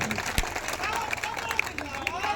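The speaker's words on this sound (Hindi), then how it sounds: "युवाओं के लिए जोरदार ताली" Crowd clapping at a village gathering for an Urs celebration in Bel gaon, Aurangabad, Bihar, with steady applause running beneath loud voices and crowd noise throughout.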